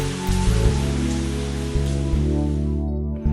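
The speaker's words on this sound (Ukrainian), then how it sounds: "Десять днів уже, а дощ не припиняється." Heavy rain pours steadily in an animated Bible flood story, a dense continuous wash of falling water with low rumbling undertones and a few soft thumps, ending in a brief drop-off near the close.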